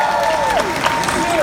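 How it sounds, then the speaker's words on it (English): Audience at a My Hero Academia panel at London MCM Comic Con clapping, a loud, dense burst of applause from a nearby crowd with a voice over it. "Let's have a big round of applause."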